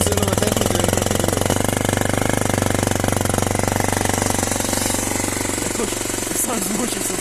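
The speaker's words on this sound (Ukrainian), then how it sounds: "Все-таки заводяться з лапки. Навіть зимою." A Loncin Pruss motorcycle engine runs in winter, idling with a loud, steady rapid putter close by, while a voice speaks briefly toward the end.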